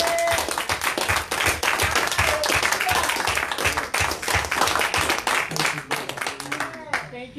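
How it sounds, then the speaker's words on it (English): A church congregation at a Sunday morning service claps in praise, a dense burst of handclaps with a loosely shared rhythm that fades near the end, leaving a brief trace of voices and tones. "Let's give Him a clap of praise."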